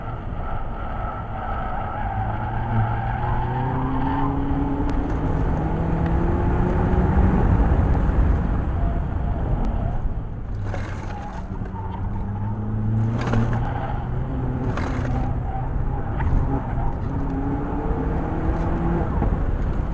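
Onboard sound from a car lapping a circuit at a track day, a continuous loud engine drone with rising and falling pitch sweeps through gear changes, steady and close throughout.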